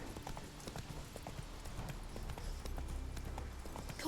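Horse Roach trotting in The Witcher 3, steady clip-clop of hooves in a quick rhythm, moderately loud and continuous, with faint background ambience.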